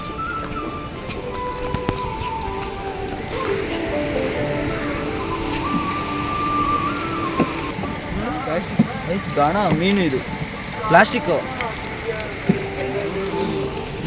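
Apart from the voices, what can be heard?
heavy rain falling on a beach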